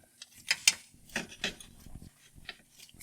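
A ratchet snugging up bolts during oil and sub-transmission service on a Honda Pioneer 1000: sparse, quiet clicking bursts in an irregular rhythm, close by, with no talk.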